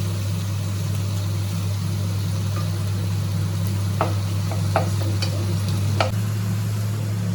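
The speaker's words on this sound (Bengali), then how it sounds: "পেঁয়াজটা ততক্ষণ ভাজা হোক" Onions fry in a pan with a soft, steady sizzle over a constant low hum, broken by a few scattered clinks and scrapes of stirring, with no speech.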